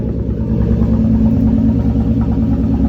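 Nissan R34 Skyline with a turbo conversion runs nearby, a loud, steady low engine rumble with slight vibration and little rise in pitch.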